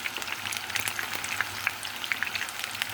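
Eggplant slices frying in hot oil in a pot, a steady close sizzle with dense crackling pops throughout and no voices.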